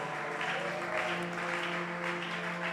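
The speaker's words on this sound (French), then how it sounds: "On acclame le Seigneur." A church congregation claps and cheers for the Lord, a dense continuous patter of applause over sustained musical tones, steady and full throughout.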